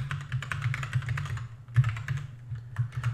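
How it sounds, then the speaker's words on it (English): Rapid keystrokes on a computer keyboard while entering code for a Node.js web scraper, a steady run of close, crisp clicks with a brief pause midway before the typing resumes. "I'm going to type out website here."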